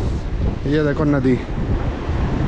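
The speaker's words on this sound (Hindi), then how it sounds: "क्या बढ़िया हवा चल रही है" Steady wind rushes across the microphone beside the Chenab River near Udaipur, Himachal Pradesh, a constant broadband roar that lasts throughout, with someone speaking briefly in the middle.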